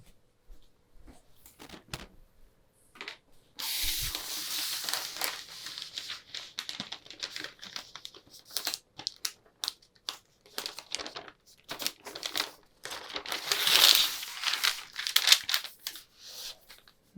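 Paper pattern sheets rustle, crinkle and crease in short, uneven bursts as a back bodice dart is folded closed against a table corner, with quiet pauses between handling.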